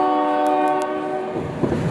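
A train passing close by with its horn blaring, a loud sustained blast over the rumble and rattle of rail cars, with no one talking over it.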